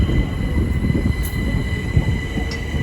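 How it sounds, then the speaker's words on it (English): A Great Northern class 387 electric train rolls out of Cambridge station with a steady low rumble of wheels and motors, a faint high whine and occasional squeal, close by and continuous. "Now departing is the 1435 Great Northern service from London King's Cross to Kingsland"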